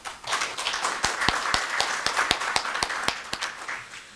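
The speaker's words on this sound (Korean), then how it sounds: "박수로 맞이하겠습니다" A small group at a formal anniversary ceremony claps steadily, with sharp individual claps standing out in an even rhythm, moderately loud with no talking.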